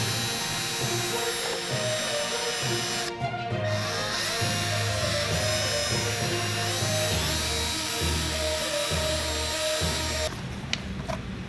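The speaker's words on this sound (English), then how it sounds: "I'm mounting them into a drill so I can clean my ear real good, and using them as polishing pads" An electric drill whirs steadily with cotton swabs mounted as polishing pads, a continuous close motor drone with a brief stop partway through before spinning up again.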